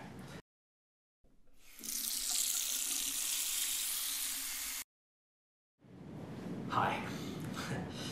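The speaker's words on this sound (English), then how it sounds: "You must wash your hands" Hands are washed under a running tap, with a steady hiss of water that stops, pauses in silence, then starts again with splashing.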